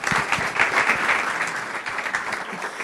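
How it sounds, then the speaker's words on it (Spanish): Audience applause fills a clinic launch event in Uruguay, a dense steady patter of many hands clapping, fairly close and sustained without letup. "adelante, un aplauso, por favor."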